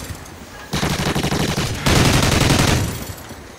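Rapid bursts of automatic gunfire in Call of Duty: Ghosts, loud and close, with a denser, heavier stretch of sustained fire in the middle of the clip.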